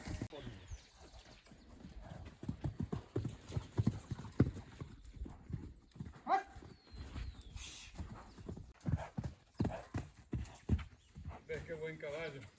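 Horse hooves clip-clopping in an uneven walking rhythm, close and moderately loud, with people talking and a few whinny-like calls between the steps.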